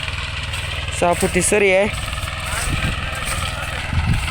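A small Mahindra Jivo 245 DI tractor fitted with a rotavator idles with a low, steady engine rumble in a sugarcane field, while someone talks over it near the start.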